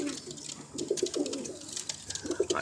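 Young pigeons coo softly in short repeated bursts, faint and close, with no voices over them.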